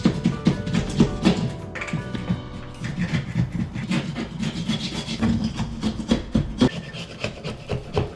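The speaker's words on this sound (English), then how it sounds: "I'm gonna scrape away the extra adhesive" A hand scraper works excess adhesive off a kitchen cabinet surface in a steady run of close, rough rasping strokes, each scrape short and repeated with brief gaps between them.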